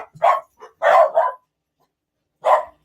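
Puppies bark in three sharp bursts, a quick pair of yaps followed by a louder cluster and then one more bark after a short silence, close to the microphone.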